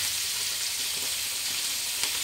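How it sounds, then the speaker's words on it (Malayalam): Fish rubbed with salt and chili sizzles in a hot frying pan, a dense, even hiss of spattering oil that holds steady throughout, with a faint stir or clink near the end. "അപ്പം അത് പൊരിക്കുകയാണ്."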